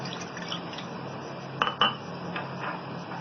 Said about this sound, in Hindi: हमने एक पैन ले लिया, इसमें हम 2 कप पानी ऐड करेंगे।